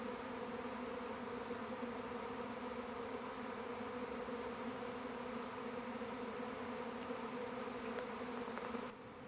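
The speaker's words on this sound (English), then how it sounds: "This is the first swarm that started it all" A honey bee swarm buzzes in a continuous, dense drone that holds steady and fairly close throughout, with no voices.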